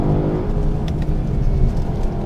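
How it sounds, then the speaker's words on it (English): Lexus LC 500 with a naturally aspirated V8, in Sport Plus mode, gives a loud, steady engine drone with a deep, continuous rumble throughout, heard close and alone with no talk. "this naturally aspirated V8 is just so crisp, especially in Sport Plus, where it gets louder, the gear shifts become quicker"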